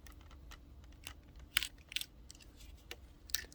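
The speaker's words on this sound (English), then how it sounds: "the first thing I do is I just cut away all the tape" Tape being cut away from a Dell 1920W EBM UPS battery pack, a scatter of close, crisp snips and scratchy clicks at an uneven pace, quiet and without talk.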